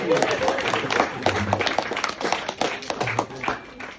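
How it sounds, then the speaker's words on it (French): An audience at a comedy sketch claps in scattered, uneven bursts, moderately loud, with a voice speaking over part of it. "Applaudissez pour la terre."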